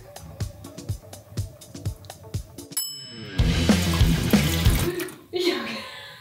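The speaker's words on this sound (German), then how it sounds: "Jetzt nimmst du das Backblech. Jetzt füllst du dort Wasser ein" Water poured from a tap into a baking tray, a loud rushing splash that follows a stretch of rhythmic clinks and knocks, with a voice speaking nearby.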